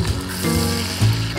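Pork chops sizzling in a pan of oil and butter, a steady close frying hiss with a brief louder crackle as the meat settles.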